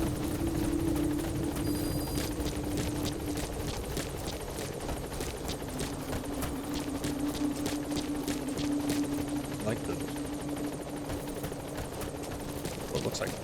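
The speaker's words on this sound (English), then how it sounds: "Just gonna leave that chopper there?" Helicopter in the video game Metal Gear Solid V: The Phantom Pain, a steady, loud rotor and engine drone that holds through the whole stretch, with scattered sharp clicks and faint background voices layered on top.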